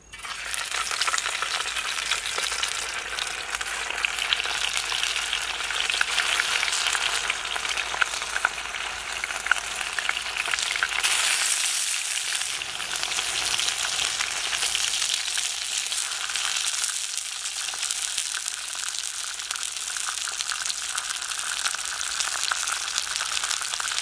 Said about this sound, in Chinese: 把饺子晾干，差不多十来分钟，就可以下锅用油煎了。